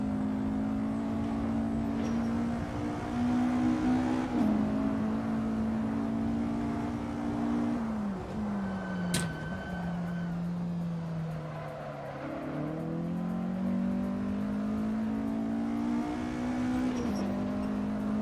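A Porsche 718 RS 60 Spyder in a racing game at Oulton Park, its engine droning steadily at high revs, dipping and climbing through gear changes and throttle lifts, loud and continuous throughout.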